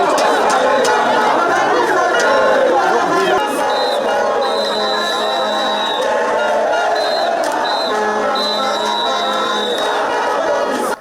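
Crowd of Kyagulanyi supporters at a Ugandan nominations-day rally, loud massed voices singing, chattering and cheering continuously, with a few whistle-like tones cutting through midway.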